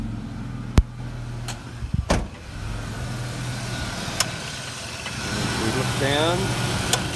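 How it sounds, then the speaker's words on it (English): A car engine idles steadily while its AC compressor clutch clicks on and off frequently in sharp, separate clicks. The idle surges slightly, and someone speaks briefly up close. "you see the clutch engaging and coming off and coming on very frequently"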